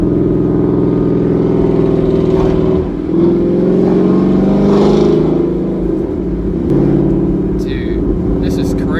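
A 2015-2017 Mustang GT with cat deletes and a Corsa Xtreme exhaust roars loudly on a downshift, a deep, steady droning rumble with pitch dips and a rev blip as the gear changes.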